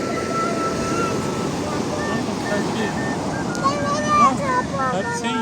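Steady rushing sea surf breaks on a beach, waves washing in continuously with wind noise, while high thin voices chatter in Turkish on top near the end.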